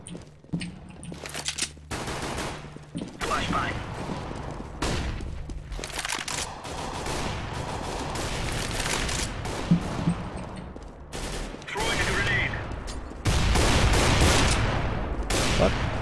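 Gunfire crackles through a Counter-Strike: Global Offensive match, dense automatic bursts and single shots at varying distances, nearly continuous over sixteen seconds and ending in a heavier, louder stretch.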